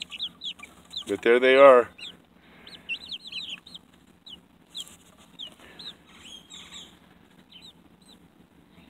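Thirty-day-old chickens give a run of soft clucks and chirps up close, with a louder burst of squawking and wing flapping early on, while a person speaks briefly.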